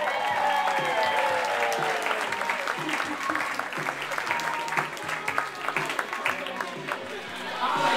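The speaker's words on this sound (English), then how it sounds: "A big round of applause for our ring bearers, Jack Brightman and Nathan Schoppel." Guests at a wedding reception applaud the ring bearers, steady crowd clapping mixed with chatter and voices, moderately loud and continuous from start to finish.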